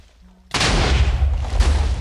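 TNT detonates in the Minecraft video game, a sudden loud blast that cuts in after a quiet start and rumbles on heavily to the end, with no voices over it.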